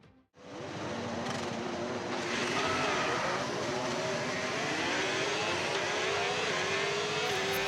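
Formula 1 race cars in a video game roar as the field sets off on the formation lap, a dense, continuous engine drone that swells loud within a second and holds steady with layered pitches.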